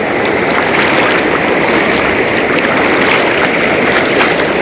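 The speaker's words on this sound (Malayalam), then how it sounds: "നല്ല രീതിയിലുള്ള വെള്ളം വരവാണ്" Powerful floodwater rushes past in a steady, loud, broadband roar, swollen with heavy monsoon-season flow that has cut off a riverside village, a close and unbroken torrent with no pauses.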